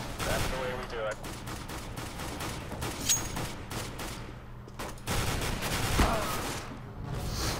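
Video game gunfire in Arms Race mode, rapid bursts and single shots crackling over a continuous din, with a voice faintly beneath.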